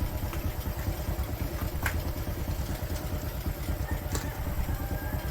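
A motorcycle engine idles steadily after being flooded with water and restarted, its low, rapid, even pulsing close and continuous, with a few faint metallic clicks above the running engine.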